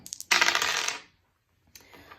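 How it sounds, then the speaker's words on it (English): Dice are rolled for a collective seasonal reading: a bright clattering burst tumbles and settles, then after a short pause a second, quieter rattle follows. "Let's roll up the dice to see what the season has in store for us collectively."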